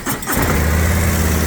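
A 2023 Harley-Davidson CVO with the 121 engine starts up in neutral on a lift, running on its stock mufflers: a loud, steady, rumbling exhaust drone with no talk.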